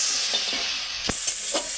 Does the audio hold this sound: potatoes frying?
yes